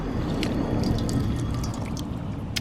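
Steady pour of boiling hot water outdoors in the Australian outback, a close liquid stream with scattered drips and splashes throughout, no voices.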